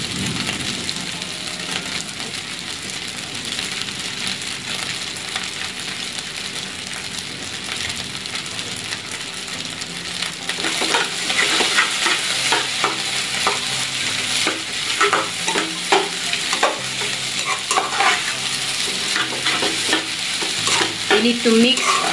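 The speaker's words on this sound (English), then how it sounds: "We need to mix first until the sauce is already mixed properly." Indonesian fried rice (nasi goreng with bakso) being stir-fried after oyster sauce goes in, a steady close sizzle with scraping and clattering strokes of the spatula that grow louder and busier partway through, with no talking.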